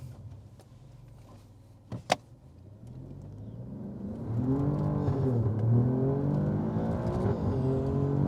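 A 2022 Alfa Romeo Giulia Quadrifoglio launches hard on wet tires in dynamic mode: after a sharp click, the engine swells into a loud, rising roar that keeps climbing, with wheelspin-like surges and no talk.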